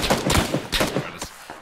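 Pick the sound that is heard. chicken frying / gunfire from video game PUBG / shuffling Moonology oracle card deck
gunfire from video game PUBG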